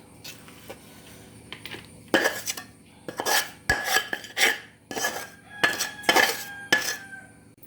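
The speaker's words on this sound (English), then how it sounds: "I pour in the jaggery and the groundnut mixture before it starts getting hardened" Jaggery and groundnut mixture for peanut chikki scraped and poured from a metal pan onto a ghee-greased surface, heard as repeated loud metallic scrapes and clatters of a spoon against the pan in close, irregular bursts.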